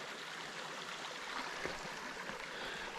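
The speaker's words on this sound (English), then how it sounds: "Here's where I got water yesterday, at this pretty little creek." A small mountain creek on Kinsman Mountain flows and burbles steadily nearby, an even rushing trickle with occasional splashy spikes and no voices.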